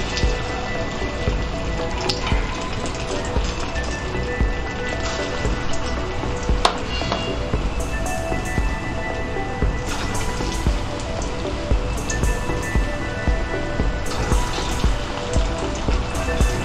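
Small spoonfuls of dahi vada lentil batter sizzling in hot oil in a kadhai, a continuous crackling fry with bursts of bubbling, no talking.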